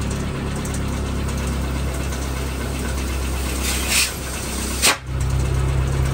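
Renault Twingo engine idling with the end of its exhaust pipe blocked by hand for a leak check, a steady low rumble with a couple of brief puffs and a sharp surge near the end.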